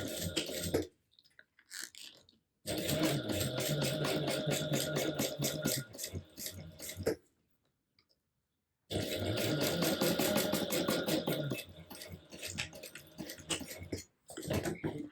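A sewing machine top stitching down the center panel of a fabric pouch, close and fairly loud, running in two long rapid-stitching bursts with short quiet pauses between, no talking.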